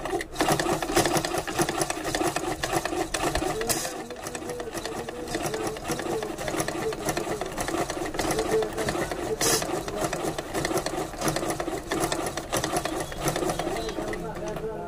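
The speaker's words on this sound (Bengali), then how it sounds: "এখন এ ধরনের একটি কাপড় নিয়ে এই মেশিনটি চালিয়ে দেখাবো যে এখন ঠিক আছে কিনা" A sewing machine stitches through cloth after a loose thread has been fixed, running in a steady close mechanical whir with rapid needle clatter and one brief pause, while someone talks over it.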